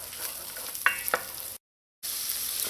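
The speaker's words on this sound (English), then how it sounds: "add your onions, chopped garlic, hot pepper, and let this saute for about a minute." Onions, chopped garlic and hot pepper sautéing in butter in a pot, a quiet steady sizzle with a couple of stirring clinks, cut by a short gap of silence.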